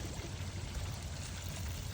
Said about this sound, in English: and now the water really comes out.